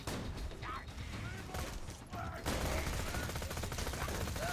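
Ricocheting gunfire in the Borderlands video game makes a dense, continuous barrage of shots with faint metallic pings scattered through it.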